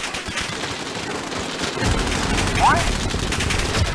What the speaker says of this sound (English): I've been shot from the roof and the top and everywhere